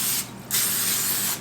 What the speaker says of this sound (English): I just give them a squirt of the Pam spray.